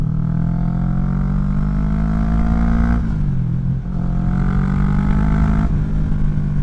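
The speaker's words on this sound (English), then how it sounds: "that acceleration and that exhaust sound never gets old" A Vulcan 650 S motorcycle accelerates with a loud, steady exhaust roar, up close, dipping briefly as it shifts gears before pulling hard again.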